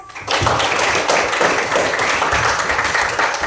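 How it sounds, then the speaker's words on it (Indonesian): A classroom of students applauding, a dense, steady burst of many hands clapping that starts after a brief quiet moment and carries on evenly to the end. "Untuk kalian semua sekali lagi berikan aplaus."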